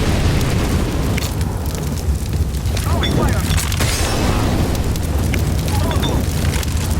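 A Molotov burns on the Dust2 map in CS:GO, a loud continuous roaring crackle of fire with a low rumble, steady throughout and mixed under someone talking.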